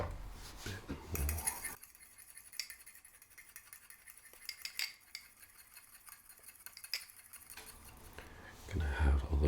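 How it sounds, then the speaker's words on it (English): A whisk clinks rapidly against a bowl while the sauce ingredients for an entrecote steak sauce are beaten together, a steady close metallic ticking and scraping that runs for several seconds between louder kitchen handling. "I'll whisk those in so they bind together."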